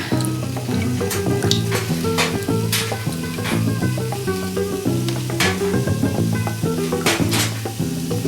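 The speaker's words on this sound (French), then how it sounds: "pour faire sauter les haricots, on les prend comme ça, on les prend la poêle" Green beans sauté in a hot frying pan, a steady sizzle broken by repeated scraping and clinking as they are tossed, with music playing underneath throughout.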